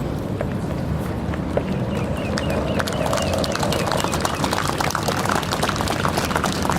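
Horses of a mounted light horse troop at a national military parade clip-clop continuously, many hooves in an irregular, brisk patter close by, with faint crowd noise underneath.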